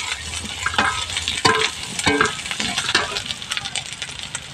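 Fried potatoes are stirred into a spiced curry in a pan, a busy close sizzle broken by repeated scraping strokes of a spoon at an uneven rhythm, with no talk.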